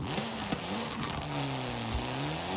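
A turbocharged Time Attack Evo racing car in Forza Horizon 5 drones steadily, its engine note rising and falling through gear changes, loud and continuous with no talk over it.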